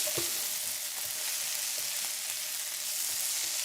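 Onions fry in a pan for a Toronto-style sandwich, a loud steady sizzle with crackling that fills the whole clip and faint stirring taps beneath.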